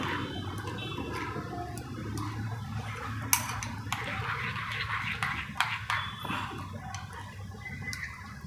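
Mixed vegetable raita being stirred in a bowl, with quiet, irregular clinks and scrapes of a spoon against the bowl over a low background hum, close but faint.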